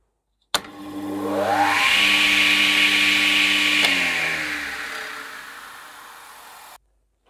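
A Scheppach HA1000 dust extractor motor starts softly and ramps up to a steady droning whir, holds briefly, then coasts down as it switches off, fading out.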